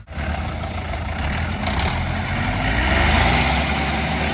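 Scout 504 minitractor engine running steadily during a towing contest, a loud, close, continuous low rumble that builds slightly as the tractor starts to pull, with no voices.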